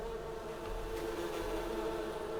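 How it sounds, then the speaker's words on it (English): Bees buzzing around hives on a farm in Farming Simulator 19, a steady, moderately faint drone with a faint low hum underneath and no other sounds. "you can hear the bees."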